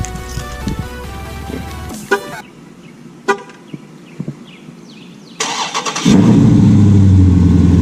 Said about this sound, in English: The whole car shook when it started, look at that.